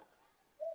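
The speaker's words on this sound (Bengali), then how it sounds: "এই হচ্ছে পায়রা।" A pigeon gives a single short, soft coo near the end after a quiet moment, faint and close.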